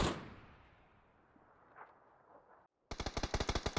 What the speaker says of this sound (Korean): 어? 총소리.